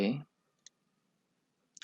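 A computer mouse clicks the OK button while creating a new dataset in statistics software: one soft click, a pause, then a quick pair of clicks, after a brief bit of speech.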